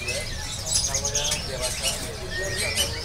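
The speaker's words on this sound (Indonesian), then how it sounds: "Burung jinak udah pada rajin nih," Imported mini wambi birds chirp at a bird market, with bright repeated tweets rising over a steady hum of crowd noise and low rumble.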